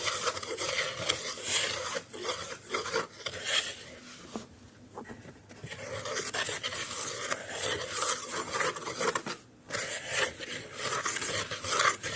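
Biscuit ingredients including butter get stirred and scraped together in a bowl, an uneven run of close rubbing, scraping and light clinking strokes with a couple of short pauses.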